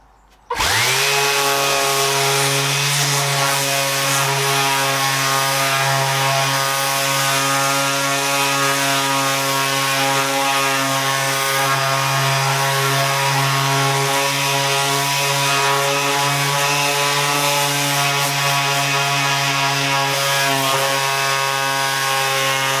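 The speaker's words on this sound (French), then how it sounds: "on va continuer de poncer cette surface là" Makita DBO180 random orbital sander with 120-grit paper working an oak board, starting abruptly and then holding a loud, steady whirring drone close up with a strong tonal hum, alone without speech.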